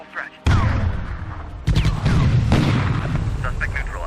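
Gunshots ring out in the police tactical game Police Quest: SWAT 2, two loud booming bursts a second apart, followed by a sustained rumble with voices talking over it.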